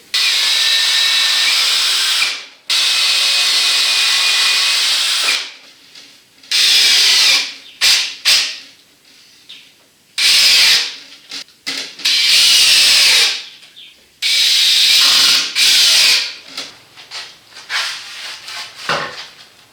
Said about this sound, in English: Just have to find my marks here and drill it through all the way.